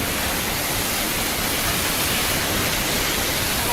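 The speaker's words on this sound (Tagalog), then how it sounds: "Eto, tumatama na yung water cannon." A powerful water cannon blasts a coast guard ship at sea, a loud, steady, broadband hiss of spraying water with no break.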